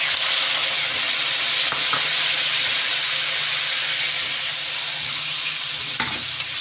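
Bengali fish curry spice paste with tomato sizzling and hissing steadily in a pan after water is poured in, a continuous loud fry with faint stirring scrapes.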